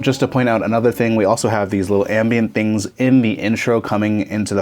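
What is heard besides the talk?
No everyday noise stands out behind the speech.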